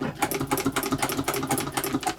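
A basic Singer 66 sewing machine stitches through leather for a tool wallet, a steady rapid mechanical chatter of needle strokes with rhythmic pulses, close and fairly loud, with no talking.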